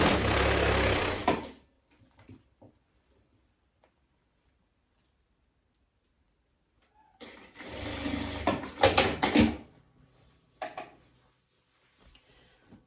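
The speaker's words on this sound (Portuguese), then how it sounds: "eu trago aqui o fechamento na máquina ao máximo." Sewing machine closing the seam of a women's long tuxedo jacket, two loud bursts of stitching, one at the start and another around seven seconds in, separated by quiet handling, with faint clicks afterward.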